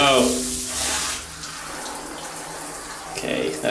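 Water runs steadily from a hotel bathroom tap in Hrazdan, Armenia, a broad close hiss that softens after the first second, with a voice heard briefly at the start.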